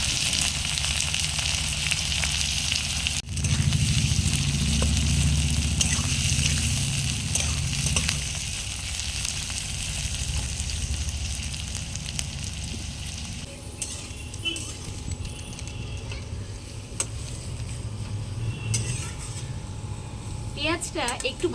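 Chopped onion drops into hot mustard oil already seasoned with dried red chillies and cardamom, giving a sharp sizzle that settles into steady frying with occasional stirring, while someone talks over it.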